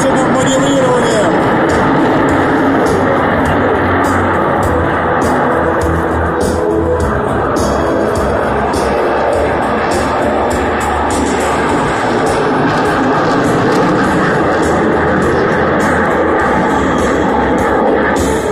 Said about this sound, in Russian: Подтянули ручку и пошел форсированный разворот с пространственным маневрированием.